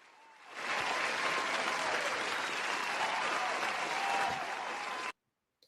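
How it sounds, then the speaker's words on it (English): Loud, dense audience applause for a guest at a live event starts after a brief moment, holds steady for about four and a half seconds, then cuts off abruptly. "Big round of applause for man like Marley Tarm in the building"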